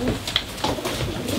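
Racing pigeons cooing at a club during basketing for a national race, a few soft throaty coos close by over a busy roomy background.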